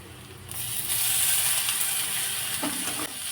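Crushed ginger and garlic sauté in a pan with oil, giving a steady sizzle and hiss that starts abruptly and holds fairly loud for a few seconds, with no voices.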